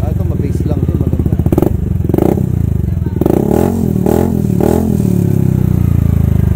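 Yamaha Aerox scooter fitted with an Acra exhaust pipe, revving repeatedly in short blips over a steady idle, loud and close, with someone talking over it.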